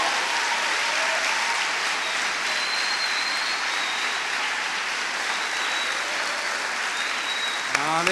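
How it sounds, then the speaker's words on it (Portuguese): A church congregation applauding, dense sustained clapping from a large crowd that fills the room evenly and carries on without a break. "você pode dar um aplauso ao Senhor dos Senhores"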